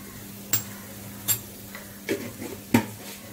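Radish greens stirred and mixed in a pan, with a handful of distinct spoon clinks and scrapes against the metal at irregular intervals over a soft background hum and no voices.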